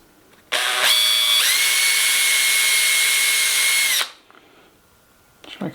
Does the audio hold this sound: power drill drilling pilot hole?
yes